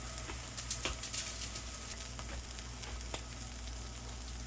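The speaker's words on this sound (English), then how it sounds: "We'll go ahead and drop them into the skillet" A burger patty sizzles in a skillet with a soft, steady hiss and a few faint pops and crackles, quiet and continuous with no talking.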